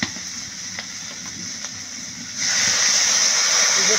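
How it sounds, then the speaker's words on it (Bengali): Water poured into a pan of frying Bengali rui fish curry: a quieter sizzle with faint clicks suddenly swells into a loud, steady steaming hiss that holds to the end. "এবারে কষানো হয়ে গেছে, এবার আমি জল দিয়ে দেবো।"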